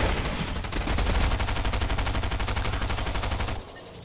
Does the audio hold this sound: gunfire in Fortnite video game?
yes